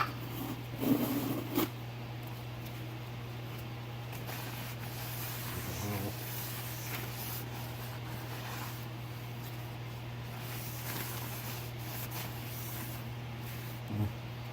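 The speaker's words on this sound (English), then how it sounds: "take some brake parts cleaner, spray it down" A long, steady hiss of brake parts cleaner sprayed from an aerosol can continues for several seconds over a constant low hum, with a few clanks and handling noises during a brake job.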